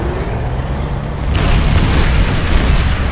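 Heavy booming tank cannon shots and an explosion in the video game Planetside 2, a deep rumbling blast swelling loudly partway through over a steady engine drone.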